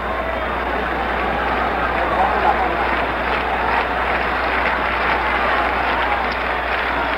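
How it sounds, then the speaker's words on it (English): A baseball stadium crowd roars and cheers throughout a Yankees vs. Red Sox game in 1974, a steady loud wash of crowd noise heard over a radio broadcast. "Boy, that really brought the crowd to life."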